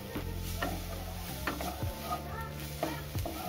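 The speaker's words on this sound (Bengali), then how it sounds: "দেখো পেঁয়াজ, লঙ্কা আর টমেটোটা কিন্তু খুব ভালোভাবে হালকা ভাজা ভাজা হয়ে গেছে।" Chopped onion, chili and tomato sizzle steadily in a pan over low-to-medium gas heat while being stirred, with several scraping stir strokes over the constant frying hiss; no talk.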